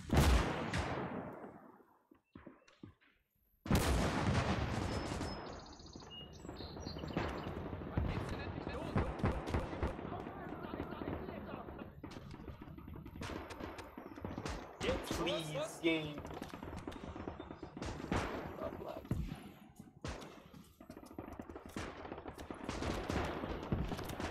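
Tank cannon blasts and gunfire in the WWII video game Gates of Hell, with sharp booming shots, rattling bursts and clanking impacts scattered throughout, while players talk over the combat.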